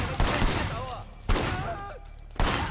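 Three sharp gunshots in Sleeping Dogs on PC, spaced about a second apart and loud and close, with brief voice-like fragments between them.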